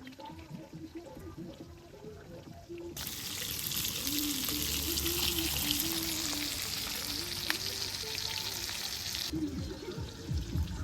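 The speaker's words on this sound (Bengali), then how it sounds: "মাছ ভাজি হয়ে গেছে" Fish frying in a pan during a Bangladeshi village cooking session, making a steady, fairly close hiss and sizzle that swells partway through and holds, with soft clinks and a faint voice behind.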